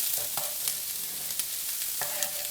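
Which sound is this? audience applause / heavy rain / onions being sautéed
onions being sautéed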